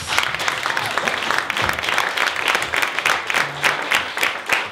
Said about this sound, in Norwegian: Da synes jeg vi skal gi alle en varm applaus.